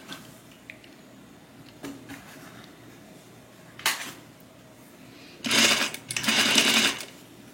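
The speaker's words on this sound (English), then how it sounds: "Now I'm going to sew the back crotch in first." A sewing machine runs in short bursts as it stitches the back crotch seam of a garment. A few brief starts come first, then two longer, louder runs of fast stitching near the end, with no talking.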